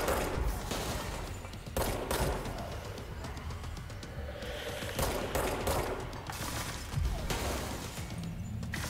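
Rapid gunfire from the video game Control as shots target flying enemies, a dense, loud stream of bursts with brief gaps, continuous over the whole stretch.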